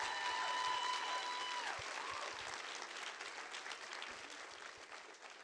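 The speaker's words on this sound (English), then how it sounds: "we should conclude by once more a round of applause for the 2 finalists" Moderately distant audience applause for two moot court finalists at a law competition, dense continuous clapping that stays steady and fades slightly toward the end, with no talk over it.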